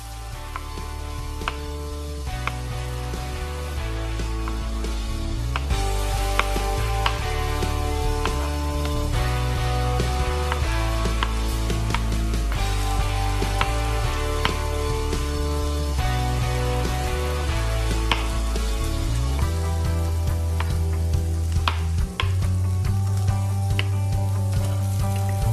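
Quartered brown mushrooms sauté in a hot pan, giving a steady sizzle and fry that runs the whole time beneath music.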